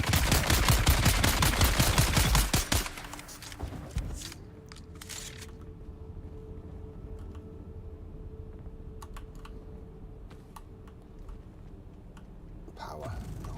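Rapid automatic gunfire rattles loudly for about three seconds in the Dune Awakening video game, then cuts off, leaving quiet in-game ambience with scattered computer keyboard clicks and a brief final burst.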